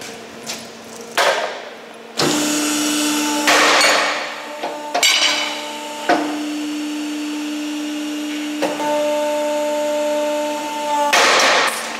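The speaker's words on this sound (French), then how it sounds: "je vais percer avec ma poinçonneuse" A punching machine pierces flat steel bars for a large fence: a steady motor hum runs throughout, broken by about six sharp, loud punching thuds at irregular intervals, with no talking.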